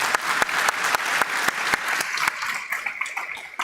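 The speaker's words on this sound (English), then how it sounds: "So one more round of applause for Dr." An audience applauds at a panel event on infectious diseases, with steady full clapping and a few sharp individual claps standing out, easing slightly near the end.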